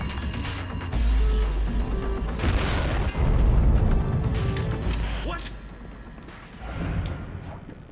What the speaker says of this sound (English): I forgot I had the grenade launcher.